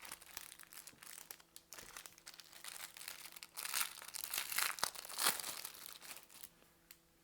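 Crisp crinkling and tearing of packaging as a diamond painting kit is unwrapped and opened, close and fairly quiet, in irregular bursts with no talking.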